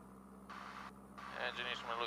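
A light aircraft's piston engine holds a steady 1,000 RPM, a constant low droning hum under a pilot talking in the cockpit.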